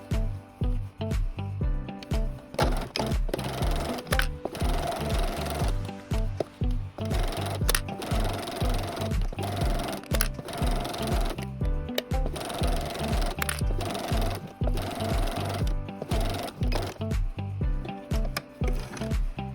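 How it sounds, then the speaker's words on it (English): A sewing machine stitches around the edge of two fabric circles placed right sides together for a jar lid cover, with a quarter-inch seam. The motor runs in rapid rhythmic bursts, close and steady, for the whole stretch. "sew around the edge using a 1/4 inch seam allowance"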